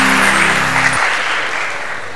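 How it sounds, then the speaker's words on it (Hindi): Studio audience applause on a Ramadan television quiz show, a dense, loud burst of many hands clapping that starts over a fading low musical tone and holds steady, with no voices. "बिल्कुल सही, तालियां बजा दीजिए"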